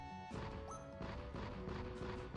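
In the Final Fantasy 1 video game, a powder charge blows up with a loud, sharp crash that stays dense and rumbling for about two seconds.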